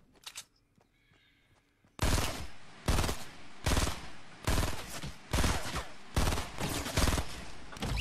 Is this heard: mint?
no